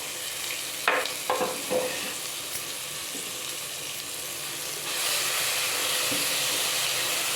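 Fish curry ingredients get stirred in a pan, a few scraping stir strokes at first over a low hiss, then a steadier broadband rush like frying or running water takes over for the last few seconds.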